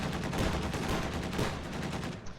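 Rapid autocannon fire crackles in a real-time strategy battle match between two players, a dense stream of sharp bursts filling the clip with no pauses and no voices.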